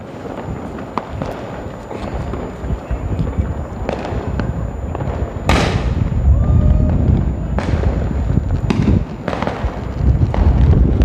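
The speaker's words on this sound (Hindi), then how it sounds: "आतिशबाजी करते हुए लोग" Fireworks and firecrackers set off by people on a decorated street during a Diwali celebration in Roorkee, repeated sharp bangs and whooshing rockets over steady crowd noise, loud and close.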